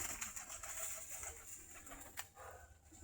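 Giribaj pigeons feeding on red soil, with soft cooing and bird sounds against faint background noise and a brief sharper knock near the end, all heard at a distance.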